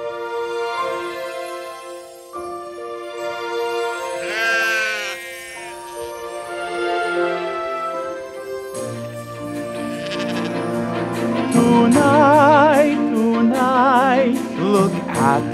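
Sheep bleating in a nativity-style church lesson scene with shepherds in the fields at night, wavering calls repeated over a musical backdrop that swells in the second half, no talking.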